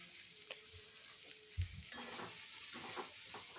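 Salted fish curry (morla fish) with chilli powder and salt being stirred in a pan at close range, soft scraping strokes and a few louder knocks over a low steady sizzle, no voices.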